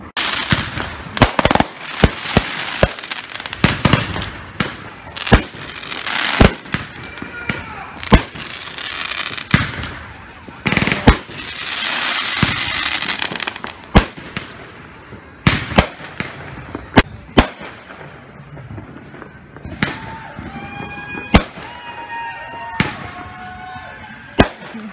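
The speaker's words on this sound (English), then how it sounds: "It's so close that we were getting hit with fireworks debris." Fireworks explode close by in a loud, irregular barrage of sharp bangs and crackling bursts, with whistling tails rising near the end.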